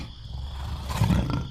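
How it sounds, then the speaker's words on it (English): An American lion roars, a deep, close, rumbling growl that builds and swells louder toward the end, with no talk. "leoatrox, the American lion"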